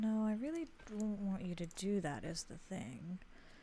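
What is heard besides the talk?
No distinct noise like a dog, phone or traffic.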